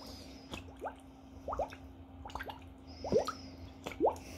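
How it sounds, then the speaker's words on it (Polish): Water trickling and glugging into a one-litre plastic cooking-oil bottle as it is filled, heard as a run of close, distinct drips and hollow plops spaced irregularly over a low steady hum. "Muszę włożyć i zalać butelkę wodą."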